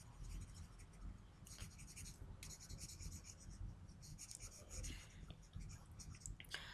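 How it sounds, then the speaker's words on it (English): Faint, scratchy rubbing of an eraser across a board during a lesson, coming in irregular bursts of wiping strokes at close range over quiet room noise. "let me erase this extra part"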